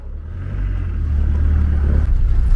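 A Range Rover engine rumbles low and steady while off-roading down an overgrown lane, the revs building slightly as it pushes forward, close and loud.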